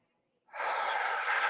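A deep breath drawn in during a guided relaxation breathing exercise, a steady airy inhale that begins after a brief silence and holds evenly loud and close for about a second.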